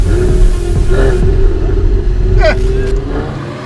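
A car engine rumbles loudly and close by with a throaty, uneven burble, and a voice is heard partly over it.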